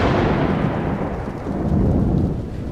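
A hard-hitting thunderstorm pours heavy rain, a dense rushing roar with low rolling thunder swelling and fading throughout, loud and close, with no voices.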